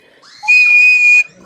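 A baby screams into a toy whistle instead of blowing on it, producing one loud, shrill sustained tone lasting under a second, close to the microphone, with quiet background before and after.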